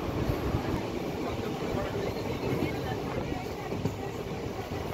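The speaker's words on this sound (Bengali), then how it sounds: "আমাদের ট্রেন চলছে রামপুরহাটের" A passenger train running from Bolpur toward Rampurhat gives a continuous, loud, rumbling roar heard from on board, with a voice talking over the noise.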